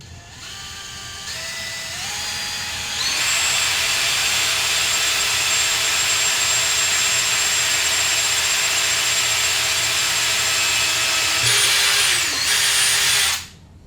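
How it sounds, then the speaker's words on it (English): A power drill bores holes in wood for mounting boards on a wall, a loud sustained whine that steps up in pitch as the motor spins up, holds steady, then drops and stops near the end. "All right, they're all drilled now. All drilled and countersunk."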